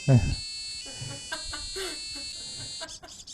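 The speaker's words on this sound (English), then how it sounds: "that's the buzzer right there" A brief electronic buzzer drones briefly, then fades under voices and lively chatter.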